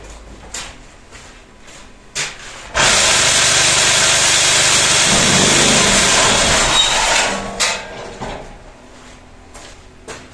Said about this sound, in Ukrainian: а потім іще раз трясанемо усе двома вібраторами.